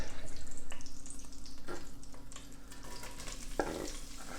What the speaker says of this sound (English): A little bit of butter, maybe half a tablespoon. Let's toss in our onions.